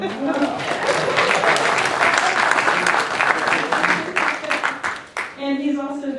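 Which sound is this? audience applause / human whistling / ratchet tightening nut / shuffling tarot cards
audience applause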